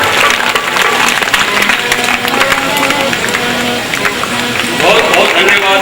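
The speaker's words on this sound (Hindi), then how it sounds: "तालियां बजाए।" An audience claps steadily at a 2008 centenary ceremony for Swami Devanand Saraswati at Gurukul Aryanagar, Hisar. The applause is dense and sustained throughout, with voices talking over it.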